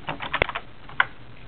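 Keys clack on a computer keyboard at a desk while short input is entered for a C programming lesson, a brief cluster of quick close taps followed by one sharper keystroke.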